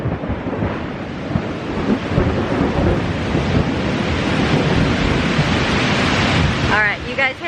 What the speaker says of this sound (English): That's some angry storm there.